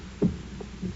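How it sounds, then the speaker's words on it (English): A muffled heartbeat effect in a classic old-time radio drama, a soft low thump followed by fainter beats, dull and close with no voices. "for many minutes the heart beat on with a muffled sound"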